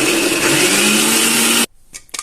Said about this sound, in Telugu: అయితే మిక్సీ పట్టుకున్నాం.